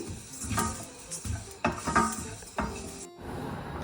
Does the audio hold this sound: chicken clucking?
no